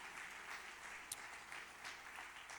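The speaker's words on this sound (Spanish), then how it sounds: "Vamos, denle un aplauso a Dios" A church congregation claps during a service, a steady, moderately distant patter of many hands that rises and falls slightly and continues without pause.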